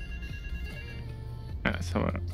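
A payphone ringing in the video game GTA III, a repeated electronic ring tone heard faintly behind someone speaking, with a louder burst near the end.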